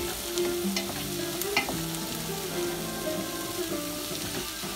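Celery sweats in a pot for chicken soup, a soft, continuous sizzle and crackle with light scraping of stirring, moderately quiet and close.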